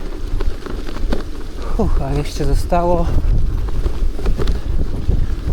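Strong wind buffets the microphone throughout a winter ride on a Romet Vivaldi gravel bike, a constant loud roar under someone speaking briefly.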